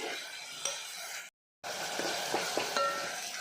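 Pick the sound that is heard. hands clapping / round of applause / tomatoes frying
tomatoes frying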